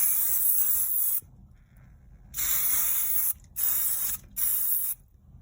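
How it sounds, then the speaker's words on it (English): Spray paint can hissing onto an assemblage box art project, in four loud bursts of varying length separated by short pauses, close up with no talking. "So I'm spraying and then I'm giving myself a moment."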